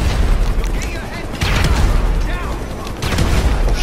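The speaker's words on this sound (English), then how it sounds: "I'm gonna use explosive ammo again" Explosive rounds fired in GTA 5 Online, a loud, dense barrage of booming gunfire blasts that runs without a break, with brief talk mixed in.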